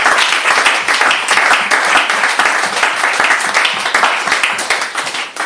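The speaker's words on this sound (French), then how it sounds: "Acclamez pour le Seigneur Jésus." A church congregation applauds loudly and steadily for the Lord Jesus, dense sustained clapping from many hands without pause, close and full throughout.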